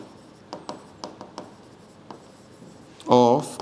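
Chalk or marker strokes on a teaching board during an accounts lesson, a series of short, light scratching taps spaced irregularly, quiet and close, followed by a brief spoken word at the end.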